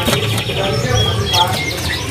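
White-eye birds at a bird-selling kiosk give light, scattered chirps and tweets under continuous nearby talk and busy market background noise.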